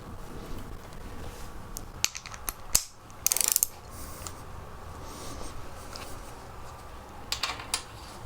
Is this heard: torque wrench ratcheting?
yes